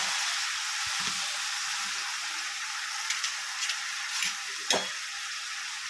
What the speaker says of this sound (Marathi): आपण आता त्यामध्ये शेपूची भाजी टाकून घेणार आहोत ती छान अशी धुवून आणि कापून घेतलेली